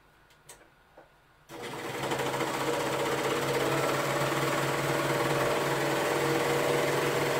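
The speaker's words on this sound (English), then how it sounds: "I am going to go serge this seam down so that it is finished at a 3/8." A serger overlock machine finishing a shirt seam: a few light clicks, then the motor starts abruptly and runs at a fast, steady, close whirring hum until the end.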